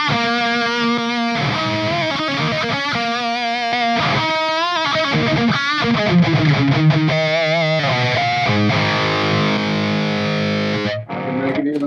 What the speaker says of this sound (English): transparent boost, like Wampler's DB booster, sounds like this.